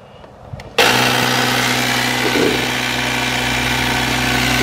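An air compressor used to blow out an RV's water lines for winterizing starts abruptly after a quiet moment, then runs at a loud, steady, droning hum, close by and alone.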